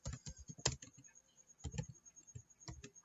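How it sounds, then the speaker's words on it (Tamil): Typing on a computer keyboard while entering data into an Excel spreadsheet, a run of light, close clicks and taps in uneven bursts with short pauses, with no talk. "இப்போ நான் இந்த இடத்துல வந்து ஒரு டேட்டா டைப் பண்றேன்"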